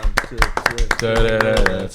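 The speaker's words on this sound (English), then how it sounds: "That applause right there" Applause for a football player comes as loud, evenly spaced hand claps, about eight in two seconds, mixed with voices chanting or singing over them.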